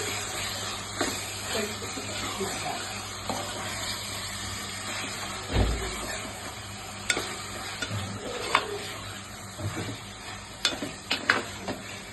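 Mutton curry with drumsticks and rock salt is stirred in a pan, a faint steady sizzle broken by soft scrapes and clinks of the spoon, close by with no talk.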